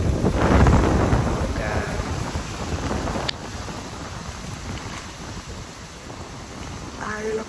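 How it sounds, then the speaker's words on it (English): Hurricane winds roaring outdoors during a storm, loud buffeting gusts battering the microphone, strongest at the start and easing slightly later, with a short exclamation from a person. "Try to show you the storm without me blowing away."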